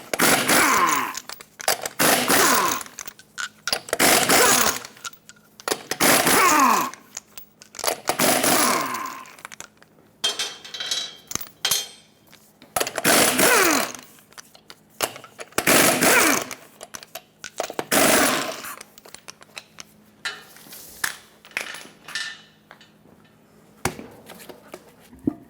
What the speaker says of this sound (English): Use a 21mm socket, remove all 8 lug nuts, and then pull the wheel off.